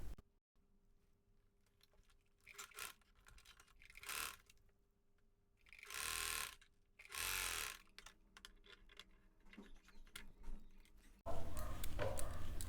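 Sewing machine stitching elastic onto a co-ord set, running in short separate bursts of whirring mechanical rattle with quiet pauses between them and a louder final run.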